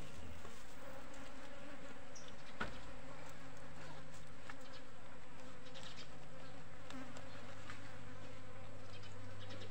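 A fly buzzes steadily and close up, its droning hum continuing throughout with slight shifts in pitch and loudness, with no speech.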